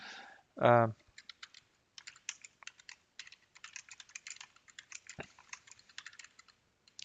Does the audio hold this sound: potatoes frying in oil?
no